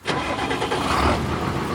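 A tractor engine in the Harvest Moon video game starts up with a quick burst and settles into a loud, steady, rumbling idle close by.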